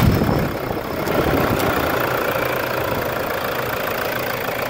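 A Toyota Hilux 3.0 engine, freshly serviced with a new alternator and tensioner, runs at a steady, smooth idle, loud and close, with no voices.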